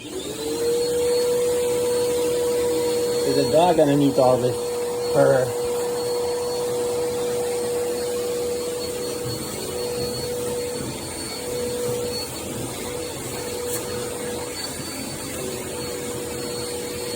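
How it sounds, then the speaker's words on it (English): A vacuum cleaner hums steadily up close while sucking loose fur off a Siberian husky during grooming, its drone continuous with a few brief scraping surges as the nozzle moves, and someone talks over it. "I gotta vacuum him up."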